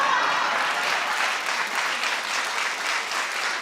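Audience applause, a sustained dense patter of many hands clapping at close range, loud and even throughout, with no voices over it.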